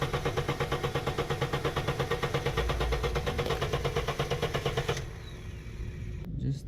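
A turbo Honda Civic R18 engine cranks over rhythmically with the throttle closed during a compression test, a steady, pulsing starter churn for about five seconds before it stops, leaving faint background noise.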